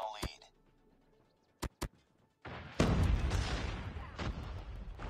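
Automated sentry gun firing in the COD Mobile video game, a few sharp isolated shots early on followed by a loud sustained burst of gunfire and explosive booms with game voice callouts.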